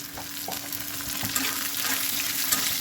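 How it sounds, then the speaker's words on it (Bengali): Potato and meat fry with tomato in a hot pan, giving a dense, steady sizzle with occasional crackles and soft stirring scrapes close by. "এই আলুটা দিয়ে এই মাংসটুকু বোনা করব শুধু একদম বোনা বোনা করবো"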